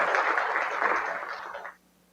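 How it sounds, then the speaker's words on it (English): Brief round of applause from a school audience at a Brooklyn City Schools State of the Schools event, steady clapping for under two seconds that stops abruptly. "Let's give them a round of applause, please."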